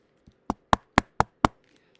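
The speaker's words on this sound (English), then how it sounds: "there was a knock at the door." A door is knocked on five times in a quick, even sequence after a faint first tap. The raps are sharp and close, with nothing else in the background.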